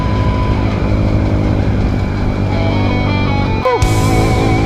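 Motorcycles on a beach ride route near Puerto Azul roar past loudly and close, a continuous engine drone with a brief dip and rise in pitch near the end.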